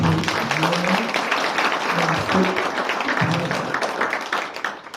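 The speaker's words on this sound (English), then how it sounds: "A round of applause to you." Audience applause at a guide dog graduation ceremony, steady mixed clapping over several seconds with voices talking underneath.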